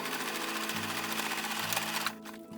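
A sewing machine runs steadily, stitching a seam on small gnome-sized jeans, its fast motor hum and needle chatter continuous and close with a brief change in pitch near the end.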